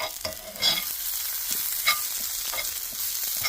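Potatoes fry in a pan with green chilies and onions, giving a steady crackling sizzle with stirring scrapes and occasional louder pops, close and continuous, with no talking.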